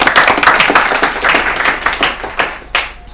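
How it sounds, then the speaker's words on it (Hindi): An audience at an Urdu literary quiz show claps steadily, a dense, close burst of many hands that keeps going with a few louder slaps toward the end. "हमारे लिए ताली बजाइए।"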